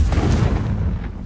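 A Confringo explosive spell cast in the Hogwarts Legacy video game, a deep rumbling blast that booms loudly at once and slowly dies away over about a second.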